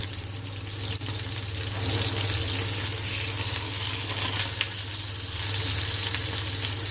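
A pork roast sears in a frying pan with a loud, continuous sizzle of hot fat, close up, while a low steady hum runs underneath.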